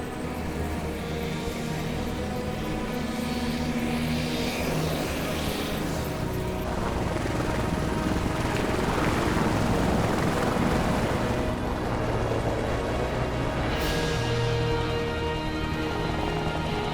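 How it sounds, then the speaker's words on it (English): An air ambulance helicopter lifts off from the closed Coquihalla summit highway after a remote accident, its rotor and turbine roar loud and steady throughout, swelling with a wash of wind noise through the middle. "Air ambulance is just taking off now."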